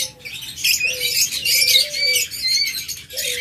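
Caged pet birds for sale chirp and tweet in quick, bright bursts, nearby and fairly loud, with a few short lower whistled calls between them.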